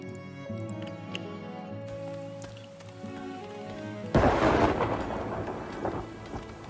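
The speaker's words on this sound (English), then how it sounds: "The lightning is hitting a little damn close to where I would like it to." Thunder and lightning storm in the video game Farthest Frontier: steady rain patter under a faint musical drone, then a loud, broad thunderclap bursts in and rumbles on through the rest.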